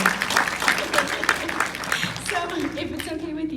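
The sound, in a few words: audience clapping at panel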